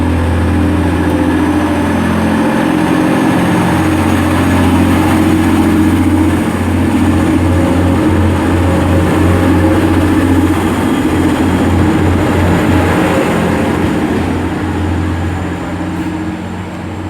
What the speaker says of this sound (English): departing now is just 15:55 to Middlesbrough, about a couple of minutes late